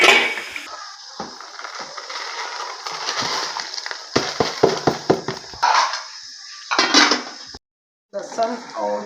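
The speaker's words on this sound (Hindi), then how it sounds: "पानी हमारा बॉयल हो रहा है, अब हम इसमें डालते हैं दाल" Lentils going into a pot of boiling water in a home kitchen make clattering metal and pouring sounds, a string of sharp clinks and rattles with brief pauses and a moment of silence.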